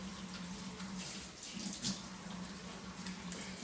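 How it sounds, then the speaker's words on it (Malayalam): Steady running water from a tap, a continuous gentle rush with no voices, fairly even in loudness throughout. "വെള്ളം സത്യം പറഞ്ഞ് ഇങ്ങനെ തുറന്നു വിടുന്നത്"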